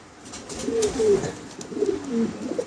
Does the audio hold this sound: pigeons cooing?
yes